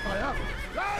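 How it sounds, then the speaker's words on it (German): A horse neighs in the Assassin's Creed video game: a single loud, close whinny with rising and falling wavering tones, lasting about a second over a steady game background. "Er hat sogar ein eigenes Pferd hier."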